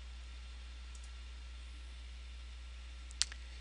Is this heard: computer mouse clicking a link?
yes